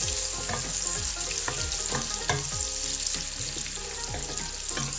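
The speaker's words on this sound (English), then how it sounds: "by adding onion, 1 large size onion. Let's make brown." One large chopped onion sizzles and crackles steadily in hot oil for chicken pulao, close and loud, with repeated scraping stirs and no talking.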